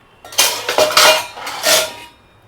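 A new thick, good-quality metal kadai and several teaspoons clatter together as kitchen utensils are unpacked and sorted, making a dense burst of close, bright metallic clanking and jingling that settles into quiet, with no voices.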